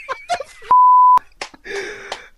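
A single steady electronic phone beep sounds for about half a second after the caller hangs up, cutting in between bursts of nearby talk.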